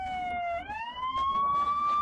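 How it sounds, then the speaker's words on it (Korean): A police car siren wails on a road, its steady tone dipping and then rising in pitch as it passes, fairly loud over faint background traffic noise. "무슨 사이렌 소리가 저렇게 나?"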